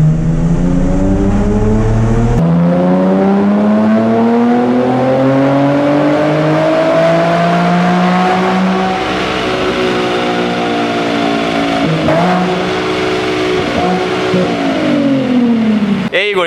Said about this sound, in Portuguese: vai acelerar o carro